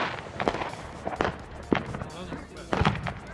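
Fireworks and firecrackers going off at an outdoor display, several separate bangs and pops spaced irregularly, moderately loud with some distance, while people talk nearby.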